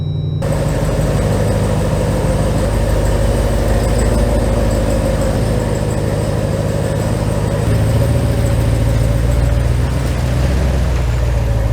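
Jeep Wrangler with the 392 V8 idling close by, a loud, deep and steady exhaust burble with a lumpy low pulse that continues unbroken, with no talking over it.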